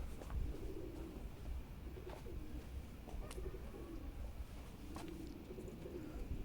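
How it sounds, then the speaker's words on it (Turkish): A young Iraqi tumbler pigeon coos several times in low, soft bursts, with a few light clicks and rustles around it. "Biz böyle pürü de yapıyoruz"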